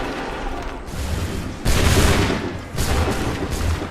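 A musket volley in Assassin's Creed 3, dense crackling gunfire swelling into loud overlapping booms in two or three waves, close and roaring with no clear voices over it.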